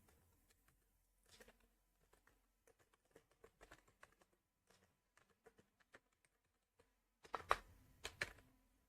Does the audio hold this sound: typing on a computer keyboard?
yes